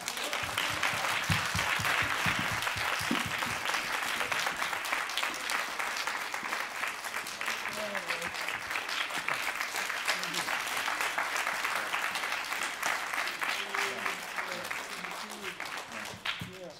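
An audience at Sofia's House of Cinema applauds to welcome actor John Savage, dense, steady clapping from a large crowd that fills the room for about seventeen seconds and fades slightly at the end, with faint voices underneath.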